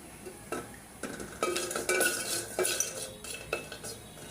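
Small pieces of dried loitta fish stirred in a hot pan: repeated metallic scrapes and clinks of a spatula against the pan at an uneven rhythm over a faint sizzle, close by.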